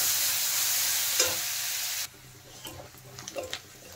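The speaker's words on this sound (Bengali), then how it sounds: "হালকা ব্রাউন করে কিন্তু ভেজে নিতে হবে পেঁয়াজ।" Finely chopped onion fries in hot oil in a pan while being browned for a masala mushroom curry: a loud bright sizzle that suddenly drops to quieter frying with scraping and stirring.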